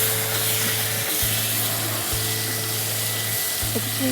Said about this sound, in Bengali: হালকা করে একটু ভেজে নিতে হবে। হ্যাঁ, একটু ভেজে নিচ্ছি।